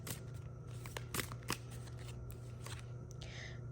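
Tarot cards being shuffled and drawn in a pick-a-card reading: soft riffling flicks and a few sharper card snaps over a steady low hum, close and fairly quiet with no talk.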